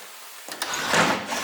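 Old drawers in an abandoned 1950s mid-century bungalow are pulled open, a quiet start giving way to a rough wooden rolling and scraping that carries on unevenly to the end, with no talking.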